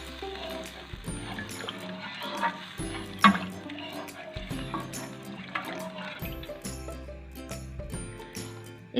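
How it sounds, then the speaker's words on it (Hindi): About a glass of milk, roughly 250 ml, is poured into a pan while cooking cheesy chicken pasta, making liquid splashing and gurgling. Clinks and kitchen handling sounds mix in throughout. "अब इसमें मैं डाल रही हूँ 1 गिलास दूध, तकरीबन 250 ml दूध मैं इसमें ऐड कर रही हूँ।"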